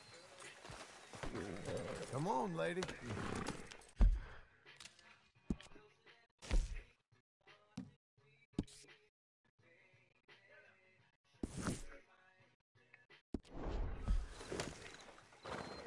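Horse hooves clip-clopping in a video game, sparse clopping steps broken by bursts of louder noise, with people talking over them at times.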